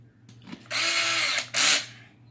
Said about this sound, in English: that's why I like to use a drill, because there's a lot of screws